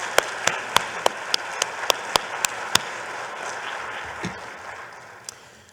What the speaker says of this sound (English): Please give these individuals a big round of applause.